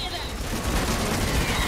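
A dense burst of rapid gunfire in the video game The Matrix Awakens, loud and continuous, with a voice speaking over it.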